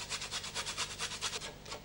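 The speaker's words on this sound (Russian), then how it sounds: "Тебе нужна тоже чайная ложка натертого имбиря." Rhythmic rasping strokes as fresh ginger root is rubbed against a grater, about a dozen quick back-and-forth scrapes, close and fairly quiet.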